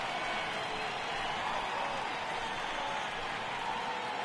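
A steady, dense crowd roar fills a baseball video game's Great American Ballpark in the eighth inning, with the home crowd cheering continuously at an even level and no pauses.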